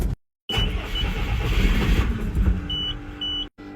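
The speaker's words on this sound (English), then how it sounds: "Let's bring the dump truck." The engine of an F800 dump truck starts with a brief crank and then runs at a loud, steady idle close by, with faint chimes over the rumble and a sudden cut near the end.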